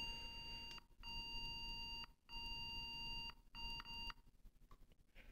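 Repeated high-pitched electronic beeps from a PC with no RAM installed, about four long tones separated by brief gaps, steady and fairly close, with no talking.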